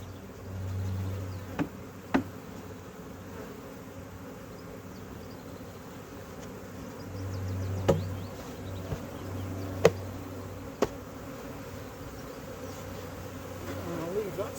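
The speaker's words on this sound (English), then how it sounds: "So I'm going to get the bees out of this box into the hive." Honey bees buzz while being shifted from a box into a hive, a low steady drone with swelling bursts, broken by occasional sharp knocks and taps of the hive equipment; a faint voice can be heard.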